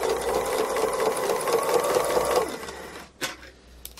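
Sewing machine stitching free motion embroidery in a circular pattern on a cow design, a steady fast rattling hum that runs for about two and a half seconds, then stops, followed by a few faint clicks.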